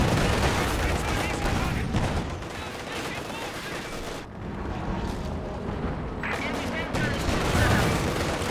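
Heavy artillery shells land in a Company of Heroes 2 battle, a dense, continuous roar of booming blasts and rumbling gunfire, loud throughout with a brief dip midway before the barrage swells again.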